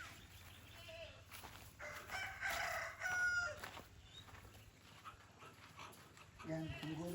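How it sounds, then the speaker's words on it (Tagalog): Puppies and dogs yelp and pant at feeding time while a rooster crows nearby, with people talking over the steady outdoor background. "Yung mga puppies."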